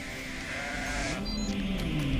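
A sheep in the video game Grow Home gives one drawn-out bleat that wavers in pitch, clear and close over a faint steady background.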